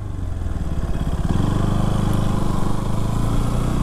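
A KTM RC200 motorcycle engine heard up close while the bike turns at low speed, a low uneven idle that rises into a steadier, firmer hum about a third of the way in and holds there.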